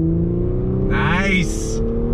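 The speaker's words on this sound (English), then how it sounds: "We're gonna see how the transmission and this S5 performs from a slow roll on throttle." 2021 Audi S5 Sportback in automatic mode pulling away from a slow roll, its engine note climbing steadily as it accelerates, with a rising whine and hiss layered over the steady drone and a voice talking over it.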